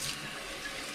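Water runs steadily from a kitchen tap as hands are washed while making pasta marinara, a continuous faint hiss with no talk.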